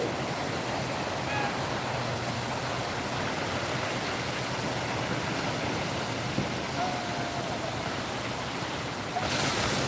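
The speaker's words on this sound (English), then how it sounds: "Just the waves are peaceful." Ocean waves at a quiet, mostly empty beach wash in as a steady, continuous roar of surf, fairly loud and even, with no distinct breaks.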